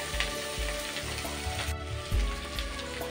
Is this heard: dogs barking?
no